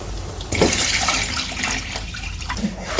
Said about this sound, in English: Now it's time for me to add the water.